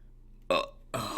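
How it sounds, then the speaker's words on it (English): A person lets out a held-in burp, two close, loud throaty bursts in quick succession with a short gap between, alone without talk. "There's that burp I've been holding in."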